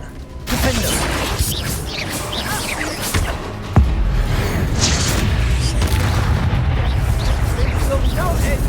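Spell explosions and blasts thunder in Hogwarts Legacy combat, a loud dense barrage of booms with one sharp crack partway through, continuing nonstop beneath the fighting.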